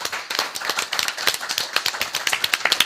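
Audience at a spring public health speaker series event applauds the guests, a steady patter of many hands clapping close and fairly even for a few seconds, with no talk over it.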